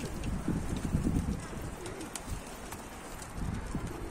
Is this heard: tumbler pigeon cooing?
yes